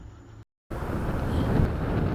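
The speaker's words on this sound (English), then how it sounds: "So yeah, it was very windy." Strong wind buffets the microphone with a loud, continuous rushing roar, broken by a brief moment of silence early on.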